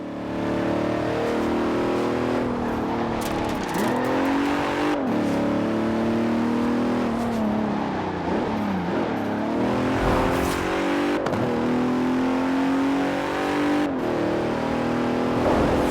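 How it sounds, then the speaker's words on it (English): A 2017 Bentley Continental Supersport, all-wheel drive, accelerates hard. Its engine note rises and falls in repeated revving sweeps, loud and close, with no talk over it. "The 2017 Continental Supersport is responsive, fast, and beautifully designed."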